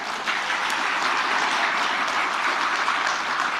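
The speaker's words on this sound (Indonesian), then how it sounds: "tepuk tangan aja kan kelihatan loh nggak meriah" An audience at a book launch event applauds, a dense, steady patter of many hands clapping together at moderate loudness, sustained evenly throughout with no voices over it.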